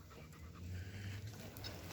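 A pet dog named Valkyrie pants steadily and close by, a soft rhythmic breathy huffing with no talking over it.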